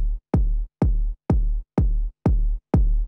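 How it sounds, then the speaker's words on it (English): A light, crunchy layered electronic kick drum played without EQ, seven evenly spaced punchy thumps in a steady four-on-the-floor pulse, each with a sharp attack and short boomy tail, alone. "So I've got this kind of light kick over the top."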